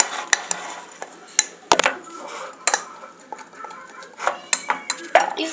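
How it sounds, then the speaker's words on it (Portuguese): A metal spoon stirs Nescau chocolate milk in a cup, giving close, irregular clinks and scrapes against the sides, with a few sharper taps spread through the stirring. "Vamos mexer."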